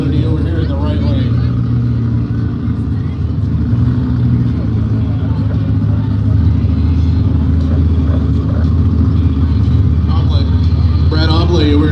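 A turbocharged four-cylinder Eagle Talon race car at a no-prep drag race idles and spools with a steady rumble, engine note rising near the end, while a commentator talks over it.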